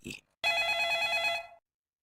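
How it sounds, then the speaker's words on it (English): A phone rings inside the video game Stimulation Clicker, one bright electronic ringtone burst lasting about a second, heard clearly after a brief sound at the start. "Oh snap, my phone's ringing"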